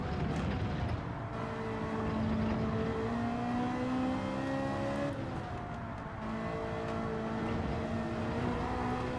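A Ferrari race car engine in Gran Turismo 7 drones steadily, its pitch climbing and falling through gear changes, loud and continuous with no talking over it.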